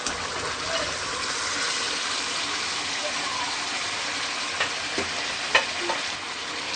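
Kofta meatballs are stirred into a simmering gravy in a pan, giving a steady soft sizzle and bubbling with a few clinks and scrapes of a spoon near the end.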